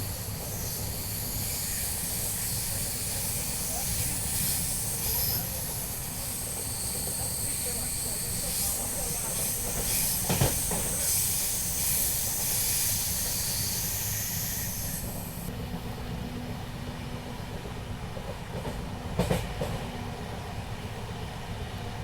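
The Panchaganga Express runs on the rails between Bengaluru and Goa, a steady loud hiss and rumble of the moving train that holds for over twenty seconds, with a couple of brief knocks.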